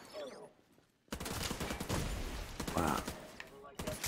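Gunfire in Tom Clancy's The Division 2, a loud sustained burst of rapid automatic shots after a quieter opening, with a short pause and then more firing, mixed with some speech.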